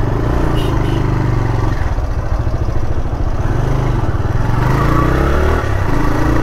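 A motorcycle rides along a road with a loud, steady engine drone and some revving that rises toward the end, heard close up with wind noise and no speech.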